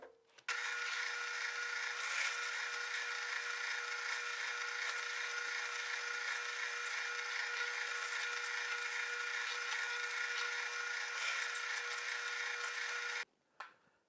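A power drill bores a mortise hole in wood, with the bit set to depth by a shim underneath: a steady, loud, continuous tonal whine that runs unbroken for about thirteen seconds, then cuts off abruptly.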